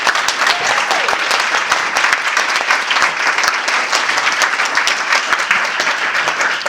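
A town hall audience on Veterans Day applauds armed forces veterans, a dense, steady wash of many hands clapping at fairly loud level throughout.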